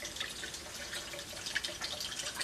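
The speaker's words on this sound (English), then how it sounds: "I'm going to pour about 200 milliliters of acetone into this jar here" About 200 millilitres of acetone is poured into a glass jar, giving a steady hissing splash with small bright trickling drips, close and fairly quiet, with no talking.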